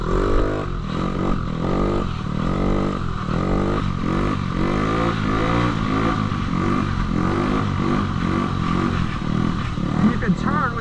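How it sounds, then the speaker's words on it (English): A 50cc motorcycle engine revs repeatedly with the back brake held, in rising and falling bursts, loud and close throughout while a person talks over it. "Hold in the back brake, rev it up."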